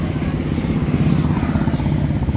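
A self-propelled farm cultivator's small engine runs at a steady idle nearby, a continuous low, pulsing putter with faint mechanical clatter.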